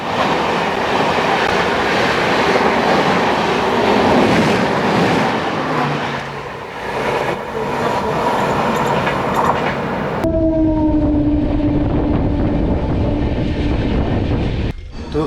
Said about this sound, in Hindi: दोनों ट्रेन जिनका सेम डेस्टिनेशन है वो सेम टाइम पे क्रॉस हो रही हैं